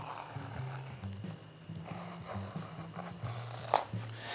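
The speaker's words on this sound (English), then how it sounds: "And then you just cut that out" Scissors snip through paper for a collage in a run of quick, close, soft cuts with a brief pause midway and a sharper clip near the end.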